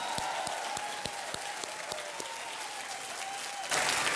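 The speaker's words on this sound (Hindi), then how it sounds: "तालियों के साथ इनका स्वागत किया जाए।" Studio audience applause welcoming the Happy New Year film team on a quiz show stage, dense steady clapping over a sustained tone, swelling louder near the end.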